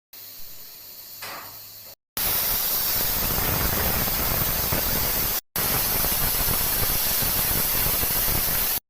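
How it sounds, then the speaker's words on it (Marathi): A pressure cooker of khichdi hisses with loud, steady steam in two long bursts separated by a brief break, after a quieter opening stretch with a faint tone. "तर मी इथं कुकर लावून घेतलेला आहे."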